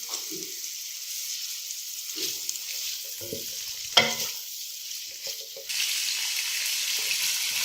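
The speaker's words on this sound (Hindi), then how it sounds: "1 मिनट तक हमने इसमें शिमला मिर्च की वो फ्राई कर ली" Capsicum frying in a pan for chicken macaroni gives a soft steady sizzle broken by intermittent stirring clatter and a sharp knock midway. The sizzle grows brighter near the end, close up with no talk.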